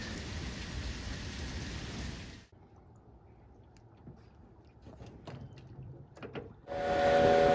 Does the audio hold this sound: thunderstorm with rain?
yes